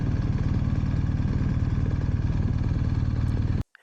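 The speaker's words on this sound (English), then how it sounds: "I still can't help myself but geek out over the mesmerizing tractor-like purr of the GS" A GS motorcycle engine idles close by with a steady, rapid low-pitched tractor-like purr, the even pulsing continuing uninterrupted for over three seconds before cutting off abruptly.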